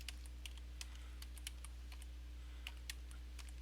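Faint keystrokes tap on a computer keyboard in a quick irregular patter over a steady low electrical hum.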